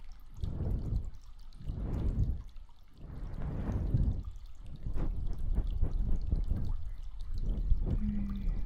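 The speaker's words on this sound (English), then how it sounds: "Just rinse all of that gunk, all of the soap, and all of the gunky stuff that's got in your fur" Water pours in several separate bursts, each a loud splashing rush of a second or so, as soap is rinsed out of fur. Short gaps fall between pours, and a softer trickle runs near the end.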